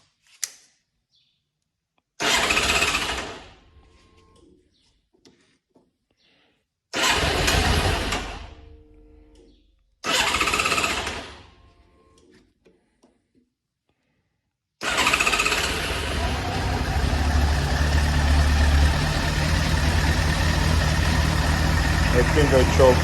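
A 1999 motorcycle with a warm, flooded engine cranks in three short bursts separated by pauses, then catches and settles into a steady, continuous idle close to the listener.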